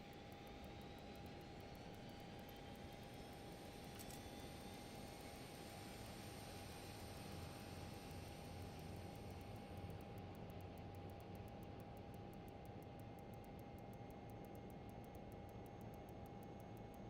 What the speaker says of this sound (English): we'll go ahead and start engine number 2 so we have some power